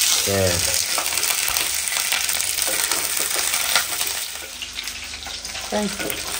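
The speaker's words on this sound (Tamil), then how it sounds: "கத்திரிக்காய் வந்து உடையாத நல்லா முழுசா இருக்கும் வரைய வதக்கிக்கலாம்" Whole brinjals fry in oil in a pan with a loud, continuous sizzle, broken by stirring scrapes and a few light metallic clinks from the utensil.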